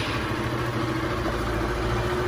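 Motorcycle engine idling with a replaced exhaust and new filter, a steady, loud, even low-pitched burble held unbroken and close, with no voices.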